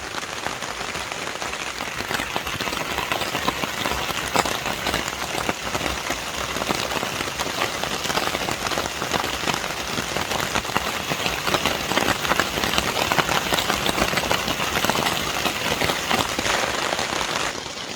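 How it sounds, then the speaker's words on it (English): Heavy storm rain drums steadily and densely on a car, a constant loud patter with no voices. "It's pretty good rain right now."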